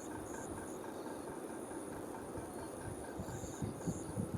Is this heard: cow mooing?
no